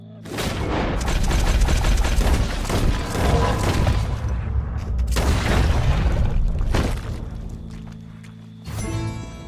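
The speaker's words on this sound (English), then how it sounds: "He shot the thing!" Rapid bursts of loud gunfire, several shots in quick succession at close range, fill the scene, with a final sharp report after a short pause.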